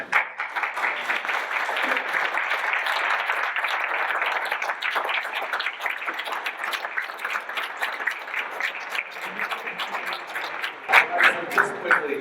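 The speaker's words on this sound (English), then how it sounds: "they deserve a huge round of applause" Audience at a business school case study event applauding, a steady dense wash of clapping from many hands lasting throughout, with a few voices emerging near the end.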